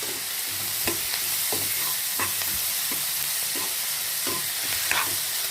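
Ingredients for a tawa fry paneer gravy sautéing in a hot pan, with a steady close sizzle and a rhythmic scrape of stirring strokes repeating every second or so; nobody talks.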